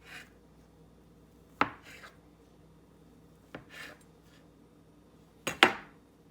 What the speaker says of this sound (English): now we're going to cut our bread in 1 inch